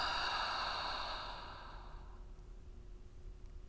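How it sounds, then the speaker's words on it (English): One long, deep exhale during guided breathing fades out slowly and softly, with quiet room tone after it. "And exhale."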